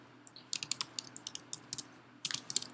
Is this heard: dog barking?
no